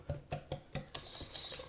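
Three eggs stirred into Jiffy cornbread mix in a bowl: four soft clinking scrapes of a utensil against the dish, then a brief busier rush of whisking at the end, close and fairly quiet with no talk.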